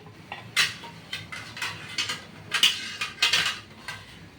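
A metal lid set onto a pot of simmering vegetable and prawn curry, with a series of sharp clinks and clatters of metal on metal spread across a few seconds, close and fairly quiet, with no talking.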